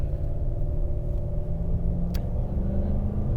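Steady low road rumble and engine drone inside a Toyota Tundra slowing under hard braking from about 60 to 10, continuous and close, with one sharp brief click partway through.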